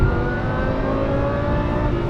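A supercharged Lamborghini Huracan accelerates hard, its engine a loud, continuous roar with rising harmonic whine heard from inside the car, steady and close without any talk.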